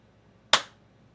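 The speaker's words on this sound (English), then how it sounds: "I wasn't ready for the clap" A single crisp hand clap lands close and clear in a quiet room, decaying quickly, with only faint background hum around it and no talking.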